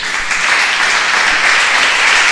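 Church congregation applauding during a sermon: a dense, even burst of many hands clapping, loud and close, sustained without a break for a couple of seconds.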